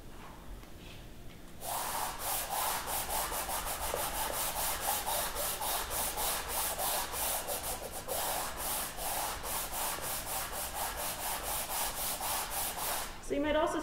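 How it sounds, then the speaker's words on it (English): Steady hand sanding of a surface with a sanding block, a soft rhythmic scratchy rubbing of repeated strokes, close up and alone after a quiet start. "The surface feels different as I sand over it."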